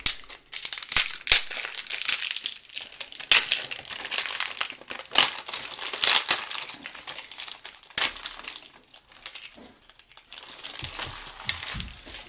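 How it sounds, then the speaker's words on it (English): Plastic wrapping crackles and crinkles as it is peeled and torn off a new Pure Lure Flight Cedan BFS carbon fiber fishing rod, a close, busy run of irregular crunches and rustles with no talking. "Let's get this plastic off."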